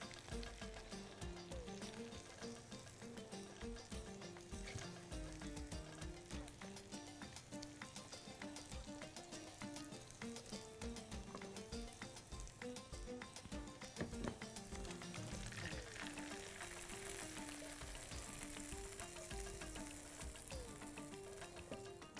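Lamb ribs fry in a pan for a tomato and mint sauce dish, a faint, steady sizzle running continuously for over twenty seconds beneath quiet background music.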